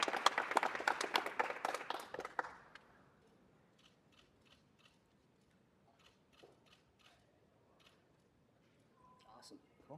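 Applause from a city council meeting audience honoring Catalyst California, loud dense clapping for about two and a half seconds, then fading into scattered faint claps and room noise.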